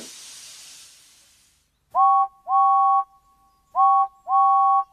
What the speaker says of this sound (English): He's blowing his whistle at her as loudly as he can.